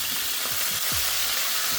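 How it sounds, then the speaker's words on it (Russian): Meat sizzling loudly in a hot pan, a continuous crackling fry with a few scraping stirs underneath. "Сначала в сковородку бросаем мясо наше."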